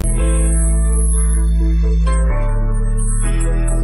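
Loud instrumental music with vocals removed by AI separation, sustained bass and chords shifting every second or so. No singing voice is heard.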